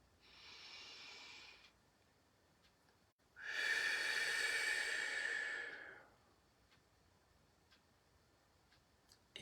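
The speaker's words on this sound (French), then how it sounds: "Puis vous prenez une dernière profonde respiration." A slow deep breath taken during a calm guided relaxation exercise: a soft inhale followed after a short pause by a longer, stronger exhale, close and quiet with no talking.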